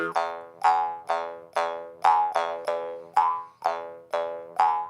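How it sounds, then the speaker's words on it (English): A plucked Corinding jaw harp, its tip slightly bent, twangs out about a dozen close, loud plucks in an uneven rhythm, each a bright buzzing tone that drops in pitch and decays quickly, with no voice over it. "This is a plucked Corinding, and it does not have the clarity because you can see it's slightly bent at the tip."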